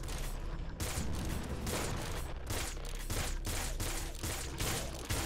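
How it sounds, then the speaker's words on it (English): Enemy laser fire in the top-down shooter Nuclear Throne, heard as a dense, continuous barrage of rapid electronic blasts and impacts with rhythmic bursts, loud and relentless throughout with no voices over it. "Mainly these dudes firing their heckin' lasers."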